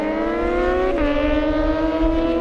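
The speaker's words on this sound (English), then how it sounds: "Greg Bunn ZX14R. Luke in the other ZX14R." A Kawasaki ZX14R motorcycle runs hard at speed on an airstrip, its high engine note holding steady. Partway through the note steps down as it shifts, then keeps droning loud and continuous.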